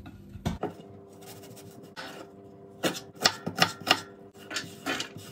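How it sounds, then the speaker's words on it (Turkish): A knife chops onions on a cutting board in irregular bursts of quick, crisp taps separated by short pauses, close by, with no talking. "Böyle soğanlarımı güzelce doğrayacağım."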